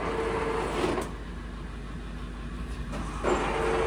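A machine tool's gearbox runs with the work-head feed rate turned up, a steady mechanical hum with faint whirring tones, interrupted by two short clunks and a brief dip in level midway.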